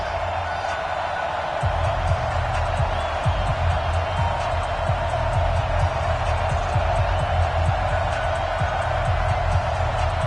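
Stadium crowd noise in the video game Madden NFL 19 before a New England Patriots versus Indianapolis Colts match, a continuous roar that swells and sustains for the whole stretch, steady and fairly loud.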